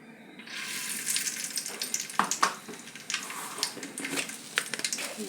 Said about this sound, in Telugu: తాలింపుకి కొన్ని ఆవాలండి,